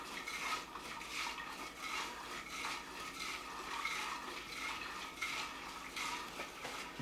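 Sanitizing water sloshes around inside a glass winemaking carboy, faint, uneven swishing and splashing in repeated surges, heard close with no talk.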